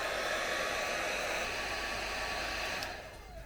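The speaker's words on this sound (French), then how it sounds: "On met un petit coup de sèche-cheveux" A hair dryer blows a steady, close, loud whoosh onto a cosplay wig lock held in place, running alone and tapering off at the end.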